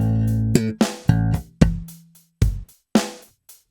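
Slap bass lick played slowly on electric bass: a sequence of about eight percussive slapped and popped notes with short rests between them, some ringing briefly and others cut off, heard alone with no talking.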